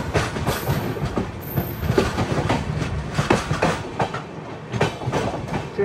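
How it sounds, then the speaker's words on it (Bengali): Shantiniketan Express train rolling into a small rural station, with steady loud rumble and rhythmic clickety-clack of wheels on rail joints continuing throughout, heard from on board. "এই এখন একটা স্টেশন এসে গেছে"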